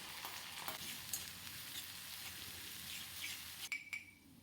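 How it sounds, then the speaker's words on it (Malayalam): Mustard seeds, fenugreek, curry leaves, ginger, garlic and chopped green chilli frying in hot sesame oil for mango pickle, a low steady sizzle with a few brief crackles and stirring clinks near the end. "നല്ലെണ്ണ ഒഴിച്ച് ചൂടാകുമ്പോൾ കടുക് പൊട്ടി വരുമ്പോൾ ഉലുവ, വേപ്പില, ഇഞ്ചി, വെളുത്തുള്ളി, ചെറു കഷ്ണങ്ങളായി അരിഞ്ഞ പച്ചമുളക്"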